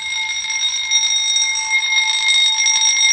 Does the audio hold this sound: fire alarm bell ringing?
yes